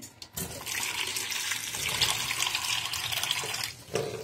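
Water pours steadily into a metal pressure cooker for several seconds, a continuous close splashing rush that stops abruptly.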